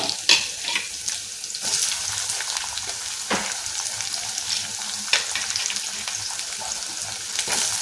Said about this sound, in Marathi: त्यानंतर आता बारीक चिरलेला कांदा टाकला